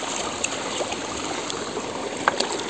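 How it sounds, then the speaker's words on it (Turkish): A forest stream flows steadily in a cool mountain woodland, a continuous soft watery rush with a few small splashes and trickles, fairly near and alone without voices. "Bir tane buradan dere geliyor."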